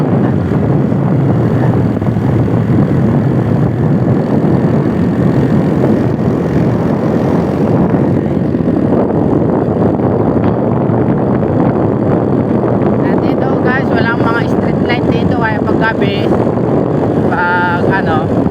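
Strong typhoon wind roars steadily outdoors in Abra with rain, a loud constant buffeting rush across the whole stretch, with faint engine-like tones and brief voices near the end.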